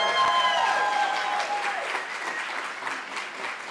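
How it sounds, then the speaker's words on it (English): An audience at a neighborhood summit claps and cheers steadily for a few seconds, a dense wash of applause at moderate distance. "Can you clap it up if you're excited about Summit?"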